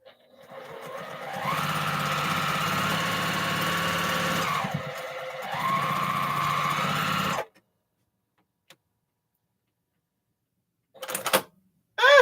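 A Juki sewing machine motor runs in two long steady bursts with a brief pause between, a close buzzing whir, then cuts off to near silence before a few short clicks and knocks.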